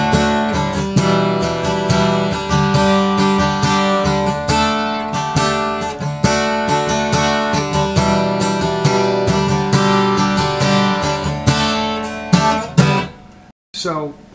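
A strummed and picked guitar plays the intro of a song steadily and fairly loud for several bars, then breaks off abruptly near the end.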